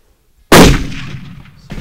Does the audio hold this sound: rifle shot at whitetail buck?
yes